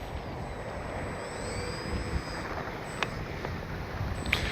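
FMS Ranger 1220 V2 RC plane with its electric motor whining steadily against constant wind noise, with a few brief knocks and gusts over the roar.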